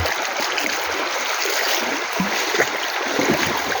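Steady broadband rush of flowing water from a river running continuously nearby in Bicol, Philippines, with no voices.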